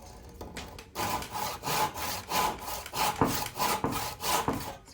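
A hand saw cuts repeatedly into a wood joint ahead of chiseling, steady rhythmic back-and-forth rasping strokes about twice per second, close and clear with no talk.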